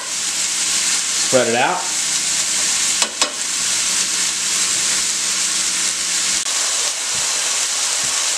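Pork tenderloin frying on high heat in a pan, giving a steady broadband sizzle throughout, with a brief stir and a short spoken remark early on.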